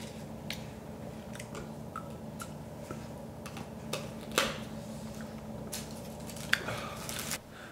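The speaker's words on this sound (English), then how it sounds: "I don't know if I'm chewing on like my lip or if I'm chewing on the food because I can't feel the food" Someone slowly chewing food with a numb mouth after wisdom teeth removal, soft wet squishing and faint clicks close to the mic, with a couple of sharper bites.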